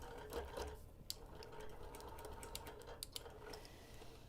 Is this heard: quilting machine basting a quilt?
yes